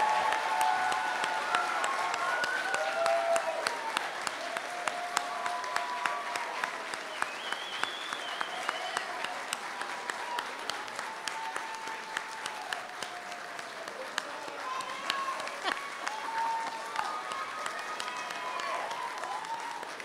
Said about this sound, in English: Please join me in giving a warm round of applause for our new Practical Nursing Certificate